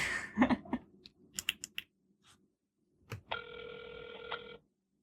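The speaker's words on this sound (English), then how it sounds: "It's ringing." After a few clicks and taps, a telephone ring tone sounds once, a steady electronic ring lasting over a second, clear and close.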